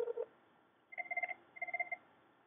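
A phone ringing through a softphone on a PC, called from a cell phone: two short bursts of electronic ring tone separated by a brief gap, clean and close with no talking.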